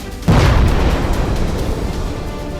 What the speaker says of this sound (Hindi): धमाके की आवाज सुनाई देती रही।